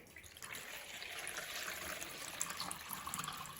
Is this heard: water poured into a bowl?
yes